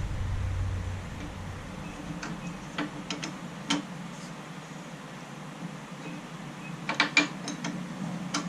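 A ratchet wrench tightens a motorcycle rear brake switch in a quiet workshop, giving sparse, faint clicking in short clusters, with a few sharper ratchet clicks near the end over low background hum.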